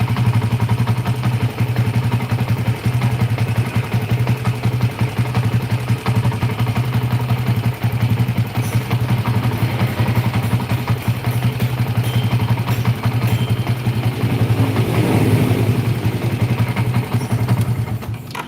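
A Yamaha MX King motorcycle with a rough-running engine and a piston problem idles up close while the clutch is pulled and released, giving a steady, clattering, mechanical chug with no voices.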